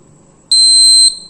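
A homemade motion-detector alarm emits a loud, steady high-pitched electronic tone lasting about half a second, starting abruptly and cutting off cleanly, close by with a faint room murmur around it.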